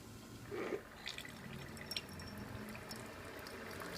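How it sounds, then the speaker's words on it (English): Water from a Keurig coffee machine pours into a cup while brewing a large cup after descaling, a faint, steady trickle with a few soft drips, heard alone. "And the water is pouring"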